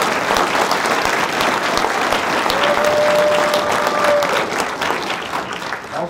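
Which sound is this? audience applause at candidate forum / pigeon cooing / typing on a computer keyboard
audience applause at candidate forum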